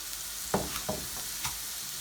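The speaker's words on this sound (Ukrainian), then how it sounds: "ну хай помаленько обжарюється" Food frying gently in a little oil in a pan over medium heat while making a cheese soup, with a low steady sizzle and a few soft stirring scrapes, fairly quiet.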